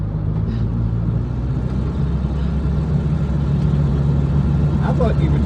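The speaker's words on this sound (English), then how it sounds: "Two-barrel sounds like it's gonna suck the hood down" A 1974 Ford Mustang with a two-barrel carburetor rumbles from inside the car as it kicks down, giving a deep, steady engine drone with a slight rise in intensity toward the end.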